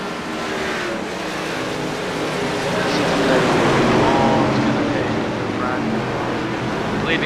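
A pack of race cars bunched three wide on the front straightaway of an oval in a racing video game, their engines blending into a loud continuous roar that swells midway.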